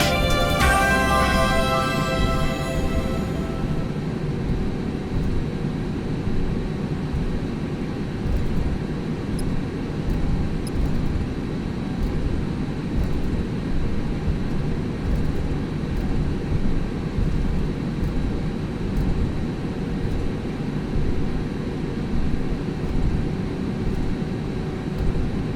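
Cabin of an airliner taking off from Taoyuan toward Macau, filled with a constant deep engine roar and rushing air that holds steady and dense throughout, with a few faint tones at the start.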